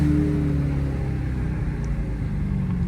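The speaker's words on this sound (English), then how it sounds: "So you know we got a downshift." A Dodge Hellcat rumbles low and steady while driving in snow, its engine note dropping slightly as it downshifts, heard from inside the car.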